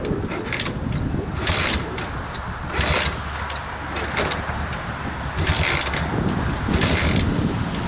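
A Delta moped being cranked in winter with a weak battery, repeated mechanical whirring and clattering bursts of the starter that never catch, heard close up.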